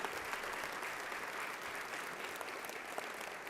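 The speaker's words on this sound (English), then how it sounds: "Please give them a round of applause" A luncheon audience at the All Stars Project of Dallas fall event gives a round of applause, a faint, distant and even blur of many clapping hands sustained throughout.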